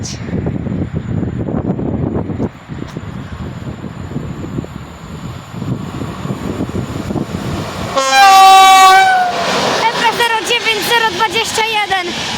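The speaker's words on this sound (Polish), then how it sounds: "I mamy przelot widzowie EP09. EP09021." An EP09 electric locomotive of PKP hauls a passenger train past Warszawa Włochy station, a steady rumble with a loud horn blast partway through, followed by the carriages rolling past, while someone talks over the start.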